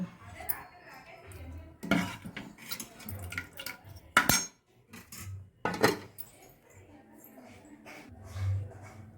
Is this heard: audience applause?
no